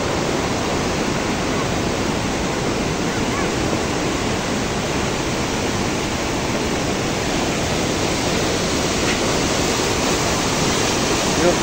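Floodwaters of the Nakhu River rush past in a steady, loud roar, a dense broadband wash of churning water that holds constant throughout with no voices breaking through.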